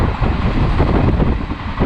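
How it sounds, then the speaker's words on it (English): A passenger train on the line to Bhusawal roars along the tracks, a loud, dense, continuous rumble and rattle with no pauses, heard close up. "the train roared like Junior NTR and sped its way to Bhusawal"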